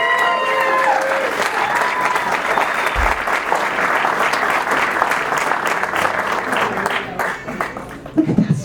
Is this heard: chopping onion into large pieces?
no